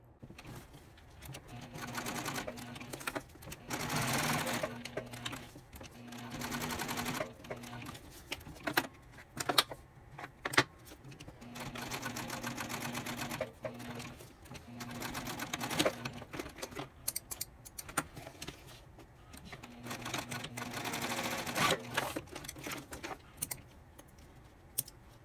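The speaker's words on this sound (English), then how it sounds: "The entire perimeter on the cork, and we will also stitch underneath this card slot here." A sewing machine stitches all the way around the perimeter of a cork wallet and under a card slot, running in sustained mechanical bursts with short pauses between runs. No one speaks.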